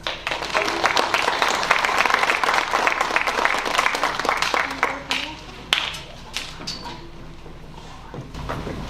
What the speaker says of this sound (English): Would you all please give these teams a round of applause?